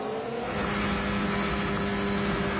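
A Formula 1 race car on the Baku street circuit at the Azerbaijan Grand Prix, accelerating with a steady, high-pitched engine whine that holds loud and close for a few seconds, with no voices.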